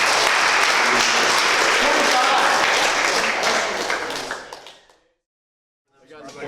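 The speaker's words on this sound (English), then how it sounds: "give it a nice round of applause" A room of sales-floor colleagues breaks into a round of applause, dense clapping going on loudly for about four seconds before fading out to silence.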